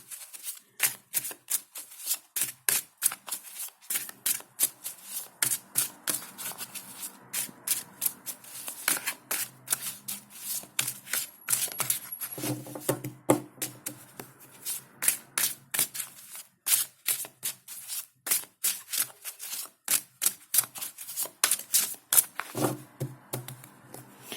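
Tarot cards shuffled over and over up close, with quick riffling bursts and crisp flicks in a steady, busy rhythm.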